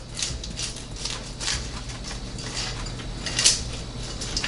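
A knife slices a freshly air-fried chicken, sun-dried tomato and ranch pizza into quarters, coming out of a NuWave Brio 14-quart air fryer oven. It gives soft repeated crunching and scraping cuts, with a sharper clink near the end.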